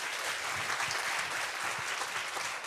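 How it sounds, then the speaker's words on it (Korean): Audience applause at a traditional Korean music concert following a poet's reading of her own work, a steady wash of many hands clapping throughout, moderately distant and without voices. "박수 부탁드립니다"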